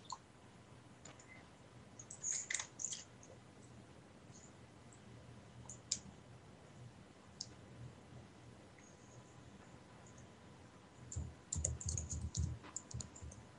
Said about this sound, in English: Why am I typing this?